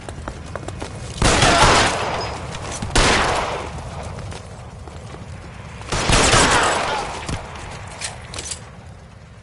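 Gunfire in the video game L.A. Noire, heard as dense fusillades of shots in two loud bursts separated by quieter stretches of lingering fire, with no talk.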